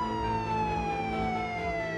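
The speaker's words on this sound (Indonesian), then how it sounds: "Suara sirene polisi berasal dari handphoneku." A police siren played from a phone, with a slowly falling tone, steady and moderately loud, with no other sounds over it.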